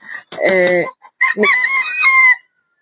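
A rooster crows loudly and close on a farm animal sanctuary, two drawn-out cock-a-doodle-doo calls with a brief cluck between them and no talking over them.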